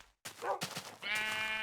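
A sheep bleats in Minecraft, one short wavering cry after a brief shuffle, fairly close and quiet.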